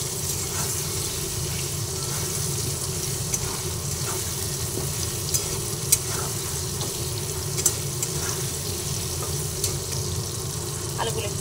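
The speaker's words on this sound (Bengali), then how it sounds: "হলুদ নুন দুটোই দিয়ে আলুগুলোকে ভেজে নিচ্ছি।" Potatoes frying in oil with turmeric and salt sizzle steadily at close range, with a few sharp clicks of a utensil against the pan.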